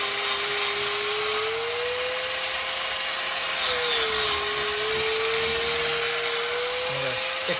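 A power tool grinds steadily along the edge of a weld on a ladder bar, a continuous whining drone with a gently wavering pitch, close and loud from start to end.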